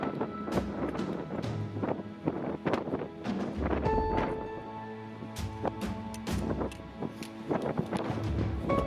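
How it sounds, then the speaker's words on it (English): Strong, constant westerly wind buffets the microphone on the Mount Baldy South Peak summit hike, a loud, gusting roar with irregular thumps and rustles throughout. "With such strong and constant westerly winds"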